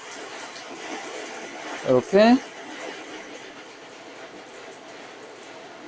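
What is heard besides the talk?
shower head spraying water onto coated surface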